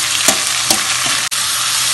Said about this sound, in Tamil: இது கூட தக்காளியும் போட்டு வதக்கிக்கலாம்.